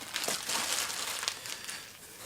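Close crinkling of a plastic accessory bag from a turntable, a continuous rustle with a couple of sharper crackles, no voices.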